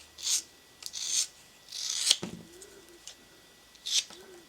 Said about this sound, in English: Just trim up there, trim across here.